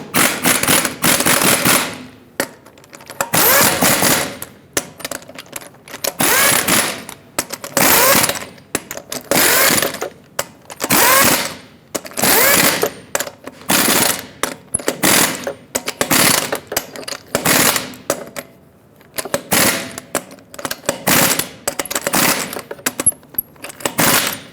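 Lug nuts on a Ford F-250 Super Duty front wheel are run down and tightened in a cross pattern. Repeated loud ratcheting bursts and clicks come close by in an irregular rhythm, with short pauses between nuts and no talking.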